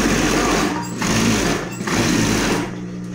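Sewing machine stitching fabric along an earlier seam, running in three rapid buzzing bursts separated by brief pauses, close and loud with no talk over it.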